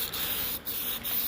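Cheap generic black spray paint hissing from an aerosol can, a steady close spray broken by two brief pauses.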